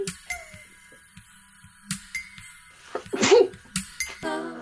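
A single sharp sneeze bursts out midway, close and loud, amid scattered clicks, pings and light clinking in a quiet room.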